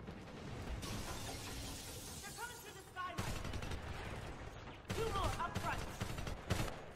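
Bursts of gunfire in the video game Homefront, dense volleys and rattling automatic fire with brief gaps between exchanges, loud throughout the clip.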